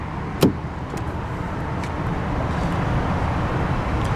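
A 2002 Mercury Grand Marquis GS engine idles while warming up, a steady low rumble close by, broken early by a short sharp click or thump, with no voices.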